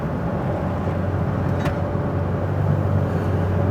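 Steady engine and road noise from inside a vehicle cruising along, a constant low drone with tire hum and a couple of faint clicks.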